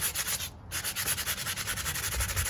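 Sandpaper of 60 grit rasps against a plaster surface in quick rhythmic back-and-forth strokes, close and steady with a brief pause early on.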